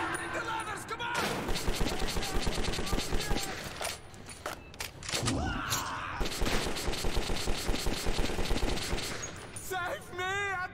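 Gunfire in the video game Metro 2033, set in underground Moscow, with dense automatic bursts and scattered single shots rattling almost without pause, close and loud.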